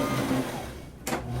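Sewing machine running a steady stitch along the bottom edge of a Simplicity S8740 garment, a close continuous motor whir that briefly changes near the end.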